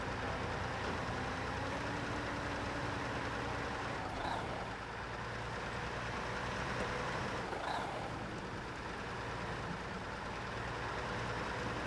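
Heavy Paystar truck in SnowRunner running with a steady, loud engine drone throughout, a continuous low rumble with slight variations and no speech.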